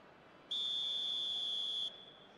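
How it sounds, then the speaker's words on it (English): A long, steady referee's whistle blast in the eFootball 2026 video game, loud and sustained for over a second before cutting off, set against a faint stadium crowd murmur. "There's the whistle, and here we go."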